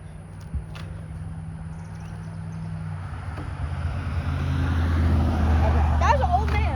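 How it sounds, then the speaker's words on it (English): A car approaches on a road, its engine rumble and tire noise rising steadily and growing louder and nearer toward the end, with people's voices heard faintly alongside. "there's a car coming"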